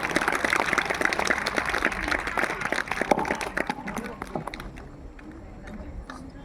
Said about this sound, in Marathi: टाळ्या वाजवत राहिल्या पाहिजे.